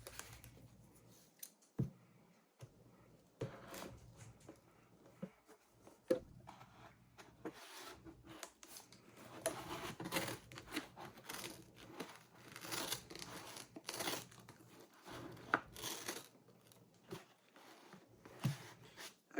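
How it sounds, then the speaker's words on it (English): Scissors snipping and tearing through the cardboard and packaging of a boxed late 2006 black MacBook, close up, with irregular crinkling, rubbing and ripping bursts that come in uneven clusters throughout, with no talking. "let me just get the scissors."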